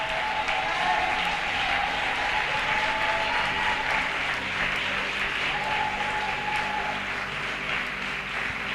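A church congregation claps loudly and continuously, the dense applause mixed with crowd noise and the occasional cheer, holding steady throughout.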